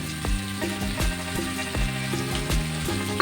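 Bitter gourd sautéing with mustard seeds in a pan gives a steady close sizzle, broken by a series of rhythmic scrapes and knocks as it is stirred.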